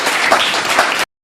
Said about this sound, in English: Let's put your hands together for a candidate in the female shift today